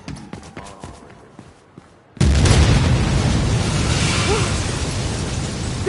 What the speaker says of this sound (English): Big explosion over here!